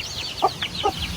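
Chickens clucking in a pen on a small farm, two or three short close clucks over a background of chirping birds.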